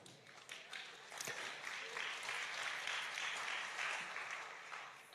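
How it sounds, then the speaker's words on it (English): Audience applause at a prophecy sermon on the rapture, steady broadband clapping sustained for several seconds at moderate distance, with no voice over it. "I don't need the clapping"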